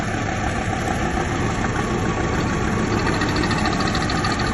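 A 2003 SsangYong 12-seat van idles with a steady, even engine hum that holds unchanged at moderate loudness throughout, with no voices over it.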